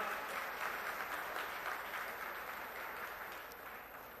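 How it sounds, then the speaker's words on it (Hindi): Steady applause from a crowd at a political rally in Kurukshetra, continuous and fairly distant, holding at an even level for several seconds with no talking. "जोरदार तालियों में"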